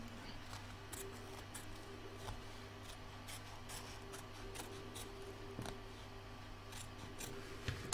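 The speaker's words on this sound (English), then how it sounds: "I'm going to take my scissors and just cut around" Quiet, repeated snips of scissors cutting around embroidered fabric, short crisp clicks spaced irregularly over a faint steady background hum.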